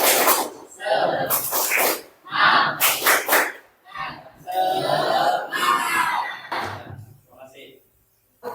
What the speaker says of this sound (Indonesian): kita main tepuk dulu ya. Ya. Tepuk semangat.